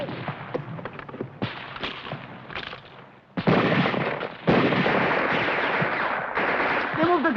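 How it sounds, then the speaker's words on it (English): Mortar and gun fire in a 1951 war film about Japanese American soldiers, with repeated sharp blasts and rumbling booms building into dense, loud sustained barrages. "Hurry up with that mortar."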